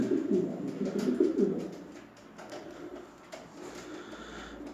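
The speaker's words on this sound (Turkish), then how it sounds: "Gökşeş posta gerçekten güzel kuşlar." Gökşeş posta pigeons give soft, close cooing in a loft. A burst of throaty coos comes first, then it fades to quieter calls against a faint background.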